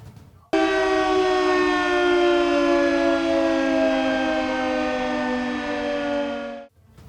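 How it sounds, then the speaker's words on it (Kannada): A loud, sustained civil defense air raid siren wails on a single steady pitch for several seconds during a mock drill in India, starting abruptly and fading at the end. "ನೀವು ಇದ್ದಕ್ಕಿದ್ದಂತೆ ಜೋರಾದ ಭಯಾನಕ ಸೈರನ್ ಶಬ್ದ ಕೇಳಿದ್ರೆ ಭಯಪಡಬೇಡಿ"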